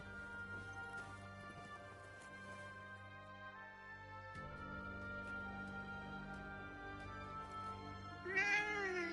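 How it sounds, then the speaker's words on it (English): A cat meows a few times near the end, the calls high and wavering over a quiet bed of sustained ambient music and soft footstep-like clops in the video game Forspoken. "Hey, that cat."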